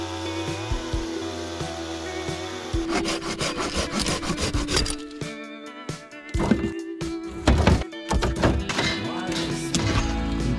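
Dry dead tree branches are snapped and broken by hand while gathering firewood on a fall camping trip on Crown land, giving repeated close, loud woody cracks, rubbing and thunks with no talk.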